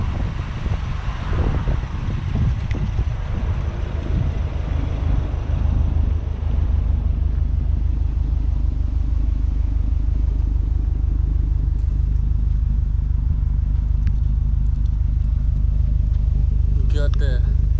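A 2011 Subaru Impreza WRX hatchback with a quad tip exhaust gives a continuous low rumbling drone, close and loud, with wind noise blowing over it throughout.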